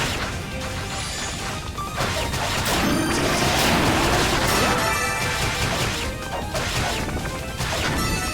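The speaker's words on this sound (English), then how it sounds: "now all the sound effects are playing" Sound effects from the video game Ys Origin at a boss encounter, a loud, dense and continuous barrage of crashes, whacks and impacts layered over game music, with no talking.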